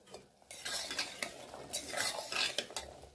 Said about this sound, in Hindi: अदरक और लहसुन को भी हम अच्छी तरह से भूनेंगे 1 से 2 मिनट तक